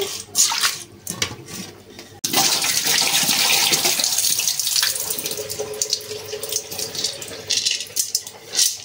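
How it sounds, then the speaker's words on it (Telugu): Tap water runs and splashes into a vessel to rinse toor dal for pappu charu, a steady close rush with brief pauses and sloshing as the water is swirled and poured off. "శుభ్రంగా కడిగి ఈ వాటర్ అన్ని వంచేసుకోవాలి."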